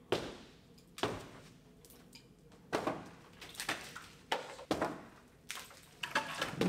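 Drywall being knocked out with a removal tool in a video game, a series of sharp crunching impacts arriving roughly once a second, each followed by crumbling debris, with no talking.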